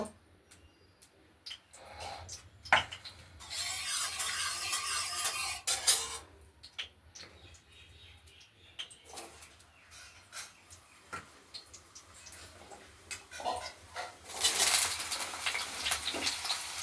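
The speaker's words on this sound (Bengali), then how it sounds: "আলুটা কড়াইয়ে ছেড়ে দিলাম একটু লাল লাল করে ভাজা করে নেব" Cut potatoes hit hot oil in a wok while a vegetarian chana masala is cooked. Two bursts of loud hissing sizzle stand out, with scattered clinks and scraping of utensils between them at a moderate, close distance.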